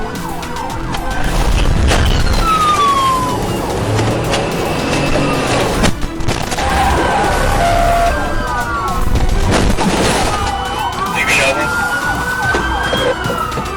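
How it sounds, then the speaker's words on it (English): Several police patrol cars chase a suspect through a city with their sirens on. The overlapping wails and yelps rise and fall loudly over engine and road noise, and voices are partly heard beneath the sirens. "Multiple patrol units joined the pursuit, their sirens echoing across the city."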